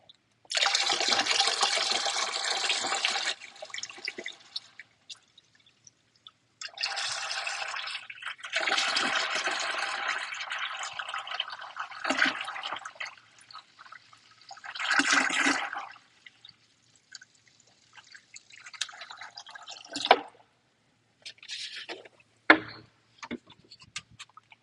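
Distilled water being poured into the coolant system of a Mercedes S550 during a coolant flush, coming in several separate bursts of splashing liquid with quiet gaps and a few sharp clicks between them.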